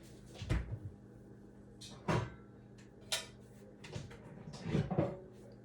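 A loaf pan is taken out of a kitchen cupboard during banana bread prep, with several knocks and clunks of cupboard doors and the pan spread over a few seconds, fairly close and quiet, with no talking.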